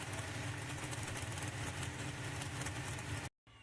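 Pulling tractor engine at a tractor pull event, a sustained loud mechanical drone with a steady low throb that holds for several seconds, then cuts abruptly to near silence before resuming.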